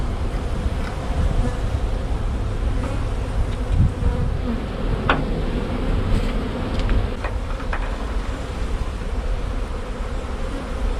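A dense, steady buzzing of a honeybee swarm fills the air continuously, close and constant, with a few brief higher whines from individual bees passing by.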